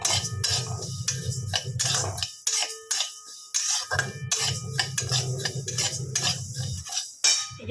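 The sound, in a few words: golden mung dal being dry-roasted and stirred in a pan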